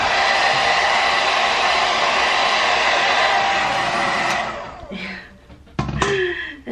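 A hair dryer blows steadily on low heat while hair is styled with a paddle brush, a loud continuous rush for about four seconds that then cuts out, followed by a few brief handling knocks and short bursts.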